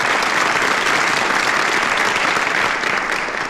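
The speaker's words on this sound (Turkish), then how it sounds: "Pelin'i alkışlıyoruz hep beraber." Audience applauding for Pelin, dense loud continuous clapping that stays even throughout and eases slightly at the very end, with no voices over it.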